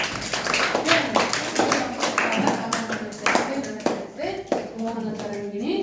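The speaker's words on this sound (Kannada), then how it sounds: "ಚಪ್ಪಾಳೆ." Hands clap in a class 8 classroom in several quick bursts of sharp claps, mixed with a speaking voice throughout.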